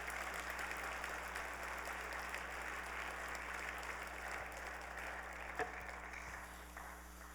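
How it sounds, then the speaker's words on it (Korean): A congregation gives the pastor a steady round of applause in welcome, a faint, even wash of clapping that holds for several seconds over a constant low hum. "우리 주 목사님에게 큰 박수로 우리 환영하겠습니다"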